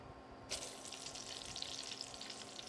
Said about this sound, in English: And you hear that nice sizzle.